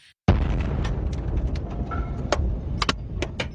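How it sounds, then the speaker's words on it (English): A large missile-strike explosion in a street in Dnipro, Ukraine, bursts in suddenly and loudly after a brief quiet, followed by a sustained rumbling roar with scattered sharp cracks and debris clatter. "This was the moment cars and pedestrians only just narrowly avoided this large explosion in Dnipro"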